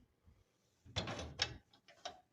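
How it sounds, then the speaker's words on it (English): A two-latch shop door closing and latching, heard as a few close mechanical clunks and metallic clicks in quick succession, quiet overall with no talking. "For the door, it's a 2-latch door."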